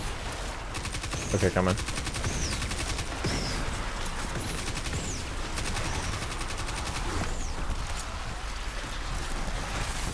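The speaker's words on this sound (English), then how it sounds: "That's another Guardian that I'm shooting." Bursts of video game gunfire as a player shoots at a Guardian enemy, repeated rapid shots over a steady background hum and chirping effects, with a person briefly talking over it.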